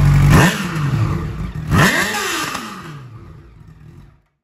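A car engine revs hard twice in a street drag-race contest, each loud surge rising in pitch and then falling away, before the sound cuts to silence.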